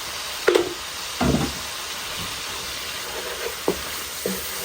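Ground turmeric, chili, coriander, cumin and curry powder hit hot oil in a pan, giving a steady broadband sizzle with a few brief clicks and spatters, close and moderately loud, no talking.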